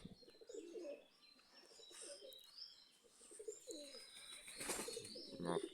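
Pigeons kept in a home loft coo softly in a series of low, rolling calls scattered across several seconds, with a few faint chirps in the background and no talking.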